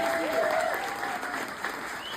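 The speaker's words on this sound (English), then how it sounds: "a big round of applause, please, to everyone at the Heartwood stage" Audience applauding the stage crew of the Heartwood stage at the Tom Petty Weekend, a steady dense wash of clapping close by with a faint tonal line underneath.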